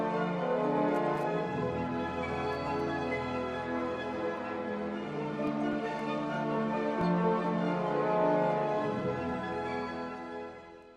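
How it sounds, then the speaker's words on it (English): The fate motive from Wagner's opera Die Walküre, sustained chords in the low brass over a full orchestra, loud and continuous throughout with dense, swelling harmony. "It's a series of 3 chords on the low brass,"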